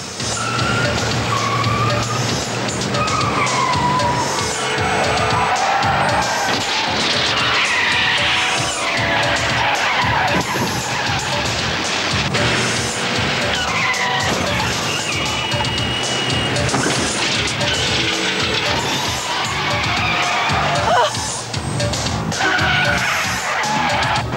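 A car accelerating hard during a chase, its engine roaring and tires skidding and squealing, loud and dense throughout with screeching bursts and what may be a brief crash near the end.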